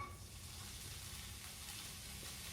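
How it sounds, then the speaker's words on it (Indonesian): Spring onions sauté in hot oil for a soun filling, giving a steady, even sizzle that stays at one level throughout with no voices. "Tuh, kita tumis daun bawangnya."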